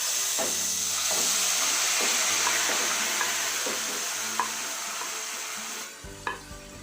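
Carrot and milk stirred into fried cashews in a pan sizzle and hiss under a spoon, with rhythmic scraping strokes and soft clinks close by; the bubbling fades near the end before a brief knock.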